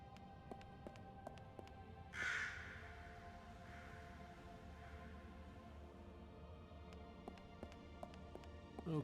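A raven in the puzzle adventure game Lost Horizon 2 lets out a single clear caw partway through, followed by a softer trailing call, set against low ambient background with scattered light taps.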